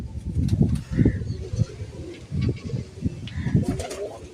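Malwai Punjabi pigeons at a pigeon sale, repeated low throaty coos in a rhythmic series, close and moderately loud, with faint chirps and a few voices in the background.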